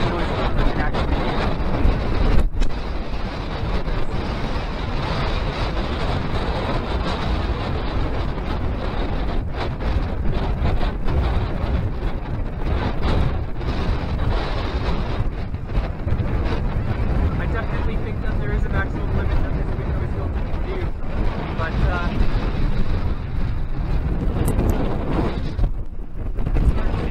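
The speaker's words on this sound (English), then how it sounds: "it's very windy out there" Strong wind buffets a budget DBPower D5 action camera's microphone outdoors, giving continuous loud rumbling and gusting for almost half a minute, with a voice partly audible beneath it.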